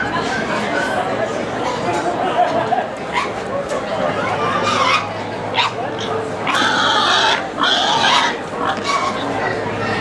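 Pigs at a farm fair grunt and oink in short bursts close by, mixed with a dog-like yip, while people talk over them throughout.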